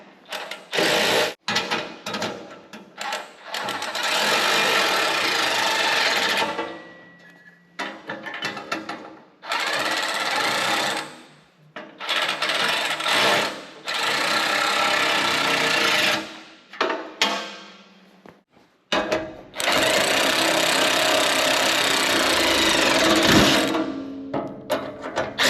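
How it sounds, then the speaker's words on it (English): An electric ratchet tightens bolts on a lawn mower in a DIY repair, buzzing and rattling in repeated bursts of several seconds with short pauses between, close and fairly loud. "electric ratchet."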